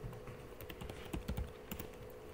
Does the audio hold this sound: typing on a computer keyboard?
yes